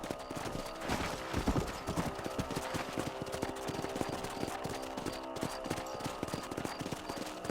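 Horse hooves clip-clop steadily over a dense bed of game music and ambience in Red Dead Redemption, the galloping rhythm continuous throughout.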